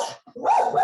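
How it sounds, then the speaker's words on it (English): A dog barks close by in a rural setting: one short bark, a brief pause, then a longer, loud yelping bark that carries through the rest of the moment. "that's my dog"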